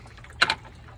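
Distilled water drains out of a 2015 Honda Civic's cooling system during a coolant flush: one brief, soft splash of liquid rises out of a low background hum and fades within a fraction of a second.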